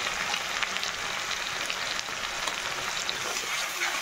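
Turmeric and salt sautéing in a pan during preparation of a mustard fish dish, giving a steady close hiss of frying across the whole stretch with faint crackle and no talk.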